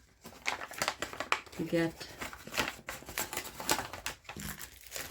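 Thick plastic baggies crinkling and rustling in hand while a diamond painting kit is unboxed, a brisk run of close crackles over a speaking voice.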